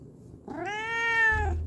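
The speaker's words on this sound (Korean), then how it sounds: "김강이 행복하다면 야옹해 야옹해" A cat gives one clear, drawn-out meow of rising then falling pitch, close and loud, with a soft thump near the end.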